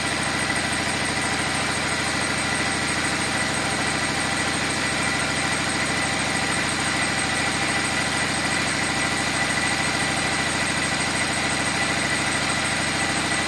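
A 6.7 Cummins turbo diesel engine, fuelled by a hydrogen-based liquid fuel, runs at a steady idle with a constant dense drone and vibration, close up and with no talk.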